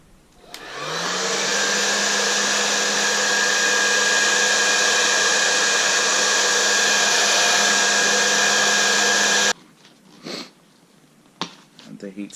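A heat gun or hair dryer warms the material of a Nissan 240SX door panel with a loud, steady whirring roar that runs for about nine seconds, then cuts off abruptly, leaving brief handling noises.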